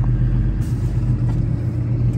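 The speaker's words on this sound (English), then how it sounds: "Take the parking brake off, we're ready for a test drive." A 2010 Ford forestry bucket truck with a 6.7 Cummins engine and LR5 boom idles steadily as it moves off on a test drive, a continuous close, loud low diesel rumble with no talking.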